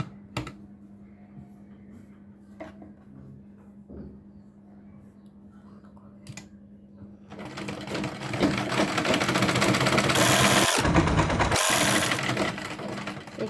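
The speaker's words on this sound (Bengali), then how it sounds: "এখান থেকে এসে কোনায় কোনায় সেলাই করে নিতে হবে যেন কোনাটা উঠে" A sewing machine stitches the corners of a cloth baby nappy (langot). It is quiet at first, then breaks into a loud, steady whirring run that lasts through the second half.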